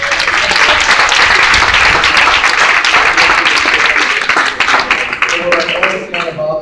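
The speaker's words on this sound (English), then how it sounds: "And you all really deserve a round of applause." Applause from an audience at a community participatory budget meeting, loud dense clapping close by that holds steady and then thins out and tapers toward the end.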